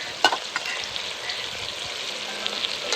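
Mutton spice masala of Dhangari masala, Kashmiri red chilli powder, whole spices, goda masala and peanut powder frying in a pan, a dense, steady sizzle with a sharp clink near the start and light stirring, close by.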